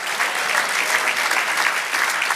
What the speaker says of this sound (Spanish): Dele aplauso otra vez al Señor.